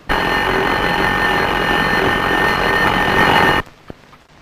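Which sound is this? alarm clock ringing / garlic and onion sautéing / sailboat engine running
alarm clock ringing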